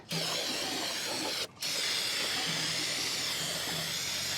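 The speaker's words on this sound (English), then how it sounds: "I'm going to go ahead and scrape all this off" An old chisel scrapes gasket material off a 1966 Ford engine part, giving a steady harsh hiss-like scraping that runs continuously, close and loud, with one brief pause partway through.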